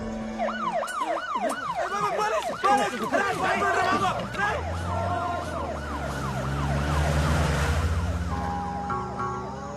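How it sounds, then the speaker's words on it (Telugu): A wailing ambulance siren cycles up and down repeatedly, loud and close, over rumbling traffic and a mix of voices. "అంబులెన్స్ రా."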